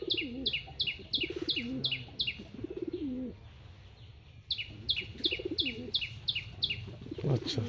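Male pigeons coo in a loft, repeated rolling coos rising and falling under bursts of sharp, rhythmic chirping in two long runs, close and fairly loud, with no talking.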